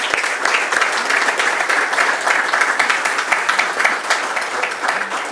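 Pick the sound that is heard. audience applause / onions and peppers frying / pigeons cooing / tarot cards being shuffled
audience applause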